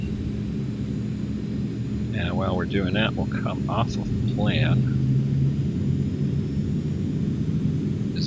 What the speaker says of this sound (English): Let the engine spool up here.